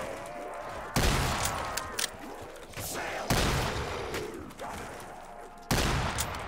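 Gunfire in Call of Duty Black Ops 3 custom Zombies map, three loud sudden blasts spaced a couple of seconds apart, each followed by ringing decay and scattered game effects.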